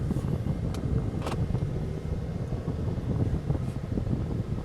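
A Jeep Wrangler 4xe plug-in hybrid running on its engine while driving, giving a steady low rumble with some wind and road noise throughout and no talking.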